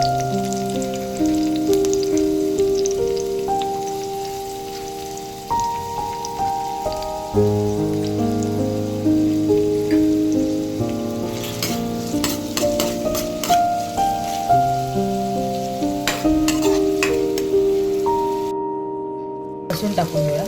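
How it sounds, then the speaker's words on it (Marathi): Chopped onion sizzles in hot oil at the start of a Malvani-style egg bharit, a soft steady crackle running under louder background music throughout. "कांदा व्यवस्थित तेलामध्ये फ्राय झाला की"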